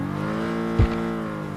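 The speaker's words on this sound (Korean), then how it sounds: "차 소리" A car engine in a video game drones steadily at an even pitch, with a single brief low thump partway through and no voices.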